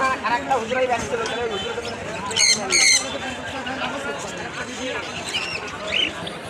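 Bird squawks and chirps rise over busy crowd chatter and people talking nearby at a pigeon market in Khulna, with a couple of sharp, bright calls standing out.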